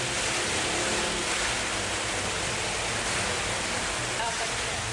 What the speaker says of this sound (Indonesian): Hujan deras disertai angin kencang dan petir melanda seluruh wilayah di Kabupaten Maros,